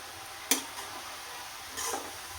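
Beetroot halwa with melting jaggery sautéed in a pan, heard as a quiet background sizzle with two brief scrapes of the spoon against the pan, one sharp and one softer, and no talking.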